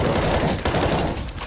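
Rapid, loud bursts of automatic gunfire in a first-person shooter game played on a custom map, dense overlapping shots filling the whole short stretch.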